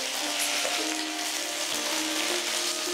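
Pumpkin-green stalks, ridge gourd and green chillies sauté in a pan over medium heat, giving a steady, soft sizzle with no voices.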